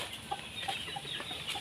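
Chickens cluck softly alongside scattered high peeps from many chicks, faint and somewhat distant in a quiet rural yard.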